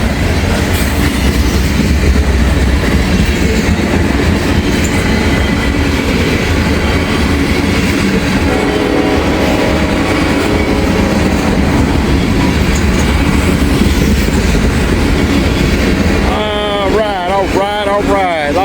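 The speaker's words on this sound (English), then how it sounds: "Lots of old BNSF grainers on here. Followed by the rest of boxcars and other mixed freight." A BNSF freight train of old grain cars, boxcars and mixed freight rolls past close by, a loud, steady rumble with clickety-clack of wheels and faint squeals near the end.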